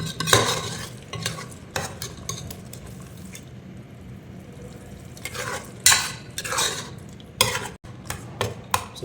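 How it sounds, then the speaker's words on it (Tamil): Village-style mackerel fish curry with chilli powder is stirred in a pan: bursts of scraping and sizzling spoon strokes come in uneven clusters, with quieter simmering between them. "ஸோ கறி போட்டுக்கலாம், மிக்ஸ் பண்ணிடலாம்."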